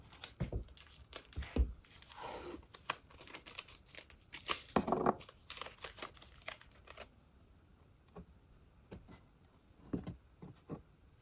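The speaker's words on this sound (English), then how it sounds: "so I'm going to use some tape." Strips of tape pulled and torn from a roll while padding a warped furniture shelf for repair, a few close sharp ripping bursts with crinkling and quieter handling between.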